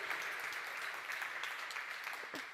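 A conference audience gives a steady burst of clapping, dense and even throughout, heard from within the room.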